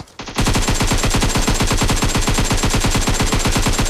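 Automatic rifle fire in PUBG Mobile rattles off in a fast, unbroken burst of evenly spaced shots, loud and close, running for several seconds without pause.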